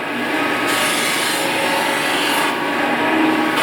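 Sanding the surface of an 800x800 wooden table being refinished produces a steady, close abrasive rasp that continues without break throughout.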